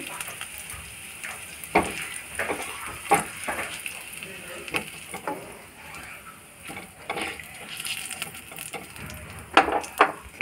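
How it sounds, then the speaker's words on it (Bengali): Dry red chillies frying in a pan for a spinach mash, a soft, steady sizzle with intermittent stirring clatters and crackles, fairly quiet and close. "শুকনো লঙ্কা ভেজে নেব।"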